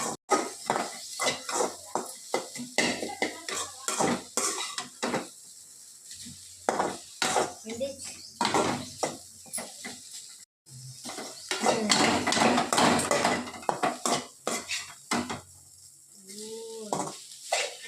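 Egg rice being stirred in a pan, with repeated metal spoon scrapes and clanks against the pan in an uneven rhythm, close and clear, no talking.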